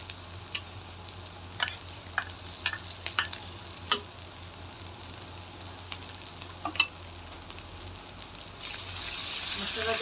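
Ground spice paste and fried onions sizzle in a pan while being stirred for a fish curry, a low steady fry broken by sharp scraping clicks of the spatula, with louder hissing toward the end and a voice speaking.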